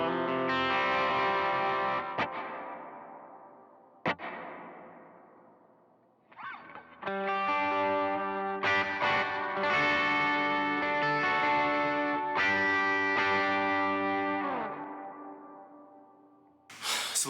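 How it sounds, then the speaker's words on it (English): Electric guitar played through a dynamic plate reverb on a Line 6 HX Stomp: sustained chords and single notes ring out, each decaying in a long, smooth tail, with pauses between phrases and no talking. "here's just again that dynamic plate just by itself"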